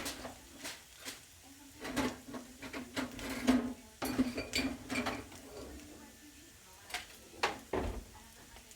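A metal spatula scrapes and stirs potatoes in a pan, giving irregular clinks and scrapes at close range over a faint sizzle, fairly quiet.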